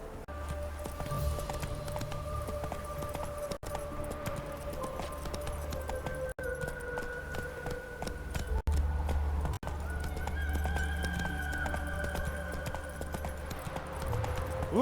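Horse hooves of Roach in The Witcher 3 clip-clop at a steady trot through the whole stretch, with occasional whinnies over a game ambience of tonal background music.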